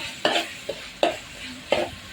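Chicken pieces with garam masala are stir-fried in a pan, with three sharp spatula scrapes at a steady pace over a faint sizzle, heard up close.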